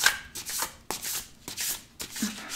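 Black tarot cards shuffled by hand, with four or five quick riffling bursts in a steady rhythm, close and clear, with no voice over them.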